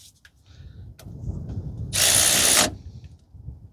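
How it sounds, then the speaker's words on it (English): A cordless tool spins caliper bolts in on the front brakes of a 2012 Toyota Corolla 1.8: quiet clicks and handling noises, then a single loud buzzing run of under a second, close up with no talk. "Just going to wind the bolts in"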